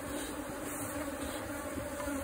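Honeybees drone steadily inside a hollow tree trunk while being rescued from the hive, a dense, continuous buzzing swarm sound held at an even level throughout, close and unbroken, with no voices.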